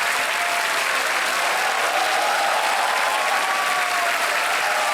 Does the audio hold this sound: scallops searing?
no